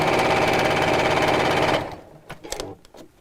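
A sewing machine stitches straight down the side seam of a project, a loud close rapid buzzing whir for nearly two seconds, then stops, leaving a few faint clicks and handling taps.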